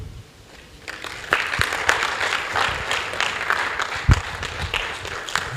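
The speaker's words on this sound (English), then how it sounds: "Thank you for that warm applause." Warm audience applause fills a business integrity seminar hall after a speech, starting quietly and swelling into steady, dense clapping that carries on for several seconds.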